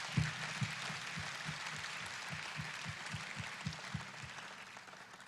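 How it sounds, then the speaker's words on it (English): Applause from the audience at an economic summit in Ogbomoso, a soft, broad wash of clapping with a regular low thumping running beneath it. "So I think it deserves so much of a round of applause"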